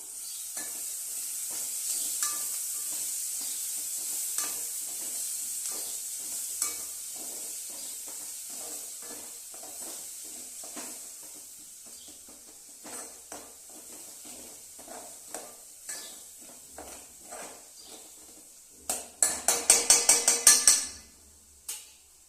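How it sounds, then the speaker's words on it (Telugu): Okra for bendakaya curry frying in a pan, giving a steady hiss with faint scraping from stirring, then a short loud burst of spoon clatter near the end. "సో ఇవి మనం బాగా ఇట్లా వేయించుకున్నాము."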